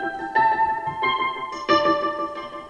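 Mellotron Acoustic Electric Pluck synth notes with a soft acoustic-electric tone, a short melodic phrase of several notes ringing and overlapping, played alone.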